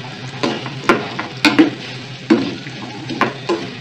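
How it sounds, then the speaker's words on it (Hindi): Onion fries in a pan with a steady sizzle, broken by a series of louder scraping and tapping strokes as a spatula stirs it, close and without talking. "प्याज को हम ब्राउन नहीं करेंगे, सिर्फ इसका कलर चेंज होने तक हम इसको थोड़ा सा फ्राई करेंगे"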